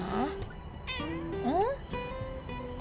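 A cat meows several times in quick succession, with rising and falling plaintive cries over faint background noise.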